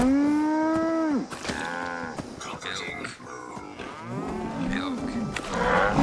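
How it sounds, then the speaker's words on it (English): Several video game cows moo loudly and close by, long drawn-out calls overlapping one after another. "I'm gonna go in here and milk these cows."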